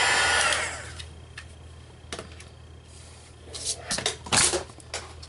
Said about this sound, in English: That was my heat gun dropping.